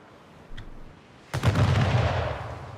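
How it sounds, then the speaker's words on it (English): Cannon fire strikes a ship in Anno 1800: a faint early thud, then a heavy booming barrage at about 1.3 s that rolls on as a sustained, loud rumble of blasts. "Ship under attack."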